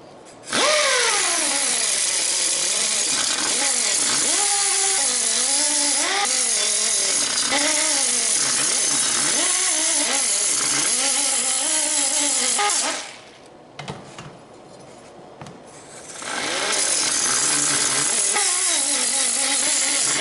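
A power tool deburrs metal parts for a mud mower jackshaft build, whining loudly and nearly continuously with rising and falling pitch as it bites the metal, cutting out briefly before starting up again.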